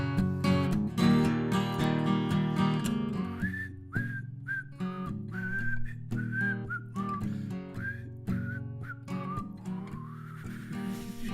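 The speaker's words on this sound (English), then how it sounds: "I can't whistle this song. I'm going to try it" A man whistles a song, a melodic line of sustained pitched notes with short phrases and small glides, heard over a steady musical backing with no talk.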